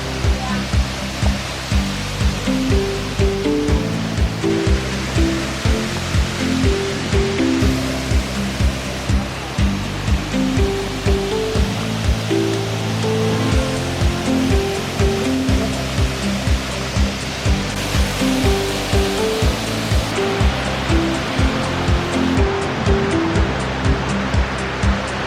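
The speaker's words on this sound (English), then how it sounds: "I'm excited to see these waterfalls." Houghton Douglass Falls, a tall 110 ft waterfall in Michigan, roars as a constant dense wash of falling water, with repeated low rhythmic thumps running beneath it throughout, and no speech.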